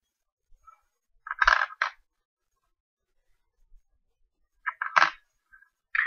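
Small British silver threepence coins clink together in two short bursts of close, bright metallic jingling separated by a quiet pause.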